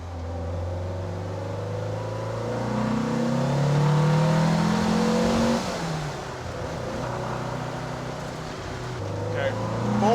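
A car on dual Weber 40 IDF carburetors accelerates at full throttle, the engine note climbing in pitch and loudness through a gear, dipping at the shift, then pulling again, heard from inside the car.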